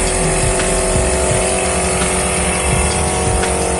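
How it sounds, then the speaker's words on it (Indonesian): An air compressor for a lanyard strap welding machine runs at full power, a loud, steady, broadband mechanical drone that holds unbroken throughout, with no talk over it. "ini untuk kompresornya saya nyalakan dulu"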